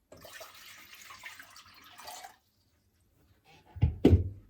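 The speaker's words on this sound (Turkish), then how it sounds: "Tenceremizin içerisine suyumuzu alalım." Water hisses steadily from a tap into a cooking pot for a couple of seconds, then stops; a few clanks and a louder splash-like thump follow.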